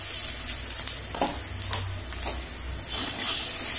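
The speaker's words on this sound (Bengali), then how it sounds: "আবার কষানো হচ্ছে।" Salt, turmeric and ginger paste fry for a katla fish kalia, making a dense, steady sizzle up close, broken by occasional spatula scrapes and stirs.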